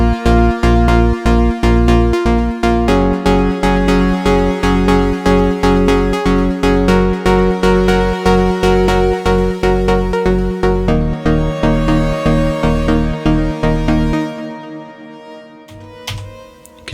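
Electronic music built with the Scaler 2 chord plugin, with added bass and a sustained pad under a steady pulsing beat and layered chords, loud and continuous for about fourteen seconds before thinning out and fading to a sparse tail.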